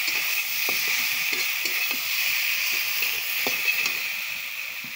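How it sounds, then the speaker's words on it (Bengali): Spice paste and Sunrise chilli powder fry in hot oil, a continuous close sizzle broken by repeated scraping stirs of a spoon in the pan. "মশলাটা দেওয়ার পর ভালো করে কষাতে হবে।"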